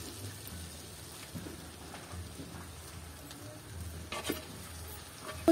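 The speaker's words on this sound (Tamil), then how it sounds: "இந்த இறைச்சியை அங்கே போட்டு வதக்குவோம்." Village chicken pieces sautéed with spices in a pan in a Jaffna village kitchen, a steady close sizzle with stirring scrapes and a louder clatter near the end.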